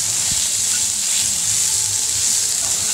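Mustard greens hit a pan of browned garlic, a loud continuous hiss and sizzle that stays dense and even throughout, with no voice over it.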